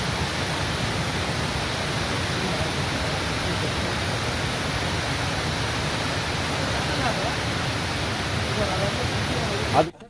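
Steady loud rush of water flowing through the cracked Palar dam in Kolar, continuous and unchanging for the whole stretch, ending with a brief clatter.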